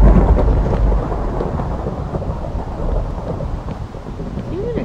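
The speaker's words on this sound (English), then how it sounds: "I don't like this rainy weather." Minecraft thunderstorm: a heavy thunder rumble opens over steady, dense rainfall that continues loud and even to the end, with no talk.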